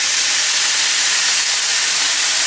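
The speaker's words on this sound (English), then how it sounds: "now I have a really hot skillet here. I'm just going to put my lamb in there." Lamb sizzling hard in a really hot skillet, a loud, steady, broad hiss with no pauses and nobody talking.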